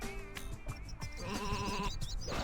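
Sheep bleat in the PS1 video game Sheep Dog 'n' Wolf, a wavering cry set against busy game music and sound effects, moderately loud and continuous throughout.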